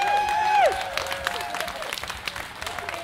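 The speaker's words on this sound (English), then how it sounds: "Please give yourselves a round of applause for listening." An audience at the Salmon Days festival breaks into dense applause after a brief whistling tone fades out. The clapping runs steadily and fairly close, with scattered louder claps.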